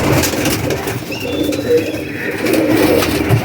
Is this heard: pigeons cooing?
yes